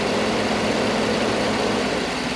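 A 2010 Chevy Tahoe engine idles with the AC on, giving a steady, even, close hum with no change across the short stretch.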